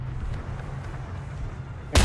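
A tank cannon fires in the War Thunder video game, a single sudden loud blast right at the end after a low engine drone.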